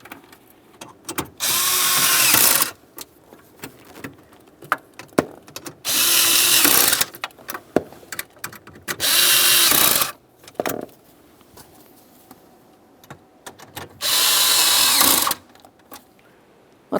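Power tool snugging the lower mounting bolts on a 2001-2005 Ford Explorer Sport Trac steering column, four loud whirring bursts of about a second each, separated by quieter clinks and handling noises, with no talk.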